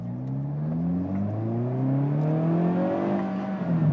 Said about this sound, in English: I hope those cracks and bangs are coming through the microphone here because this car just sounds absolutely incredible.